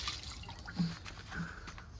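Water dribbles from a holed watering can onto garden plants and herbs such as lovage near a small greenhouse, a soft quiet trickle with a couple of faint drips.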